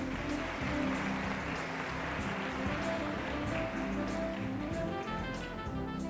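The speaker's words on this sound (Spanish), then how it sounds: "Un aplauso de nuevo para la señorita Brasil." Audience applause for Miss Brazil at the Reina Internacional del Café 2020 pageant, a steady dense wash of clapping through the whole stretch, heard in low quality with a faint voice beneath.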